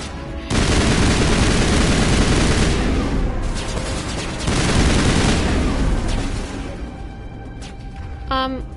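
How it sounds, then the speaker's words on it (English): Gunfire from the video game Mass Effect rattles in dense, sustained bursts with short lulls between volleys, ending with a brief electronic tone. "Yes, shoot Garrett"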